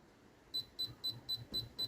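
A Chinese pinpointer metal detector held about 3 cm from an 1896 copper one-kopeck coin gives six short, evenly spaced high beeps, close and clear over a quiet background.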